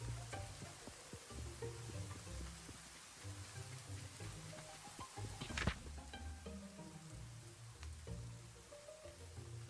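Heavy rain in the video game Little Rocket Lab, a steady dense patter with a sizzling hiss, continuous and moderately loud throughout with no talking.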